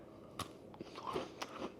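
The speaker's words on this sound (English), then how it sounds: "So I need to bite off the end here, and then it's a nice biscuit, by the way, very crunchy" Crunchy Tim Tam chocolate biscuit bitten close up, several sharp crisp crunches followed by chewing, with no talk.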